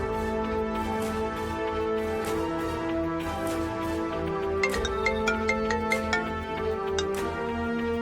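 A mobile phone ringtone plays steadily during a call, a repeating melodic tone pattern with sharp chime-like notes joining in the latter half, close and clear with no talking.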